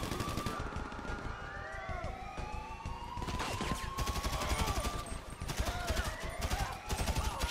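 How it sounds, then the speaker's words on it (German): Gunfire in GTA 5 Online as players come under attack at the harbor, a dense stretch of rapid shots and bursts layered with wailing police sirens and game action, continuous and fairly loud throughout with no talking. "am Hafen ist auch irgendwas, was auf uns schießt"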